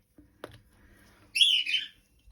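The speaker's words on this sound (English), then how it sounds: "Dear me, these birds," Birds outdoors give a short burst of high, squeaky chirps and squawks after a moment of near silence broken only by a faint tap.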